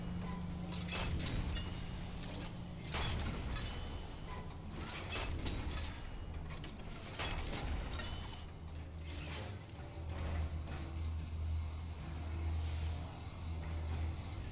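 A tank driving in the video game Destiny 2, a rumbling mechanical grind with clanking, ratcheting bursts and whooshes that surge and ease repeatedly over a low engine drone.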